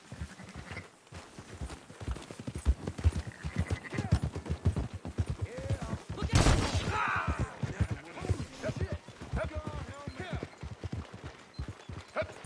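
Horse hooves clop in a fast steady rhythm while riding among sheep in Red Dead Redemption 2, loud and close, with a brief whinny or bleat midway and people talking over the hoofbeats.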